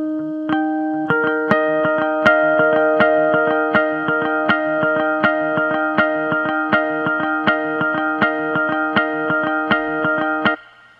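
Guitar chord fed through a Boss DD-20 delay pedal and layered on a multi-track recorder, building into a sustained ambient wash as the picking attack repeats in an even, steady pulse before cutting off near the end.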